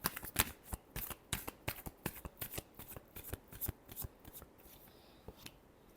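Tarot cards are shuffled by hand in a quick series of crisp riffling snaps, close and fairly quiet. The snaps follow a steady rhythm and then thin out toward the end.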